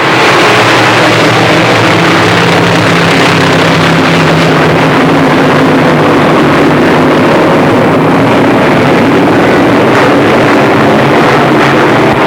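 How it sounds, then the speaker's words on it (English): UMP modified race cars roar around a track in a dense, continuous engine drone during a 1997 modified feature race, loud and steady with no voices. "Here comes Wayne Tessine in the 10, pulling alongside as they race off the 4th turn."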